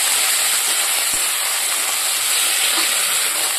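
Chopped vegetables frying with onion and black cumin in hot oil, giving a loud, steady, close sizzle with a bright hissing quality that holds evenly throughout and has no talking over it.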